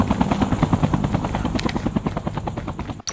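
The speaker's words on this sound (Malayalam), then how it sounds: "ഹെലികോപ്റ്റർ പൊളിക്കല്ല." Helicopter in the Call of Duty Mobile video game, a loud, close, steady rotor thump with a rapid pulsing beat and engine whine, running on its own for about three seconds before a brief cut.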